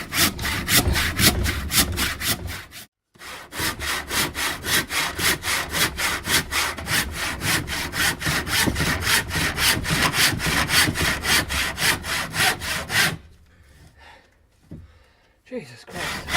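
A hand saw cuts through the wooden body of a Rebellion V custom guitar in steady, rapid back-and-forth strokes, loud and close. There is one brief pause early on, and the strokes stop near the end, leaving quieter handling noise and a breath.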